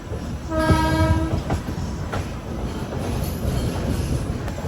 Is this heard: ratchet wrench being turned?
no